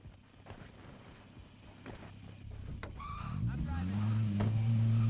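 A vehicle engine in the game Warzone builds steadily in pitch and volume as it accelerates, loud and close, after a stretch of quieter gameplay noise. People chat over it early on.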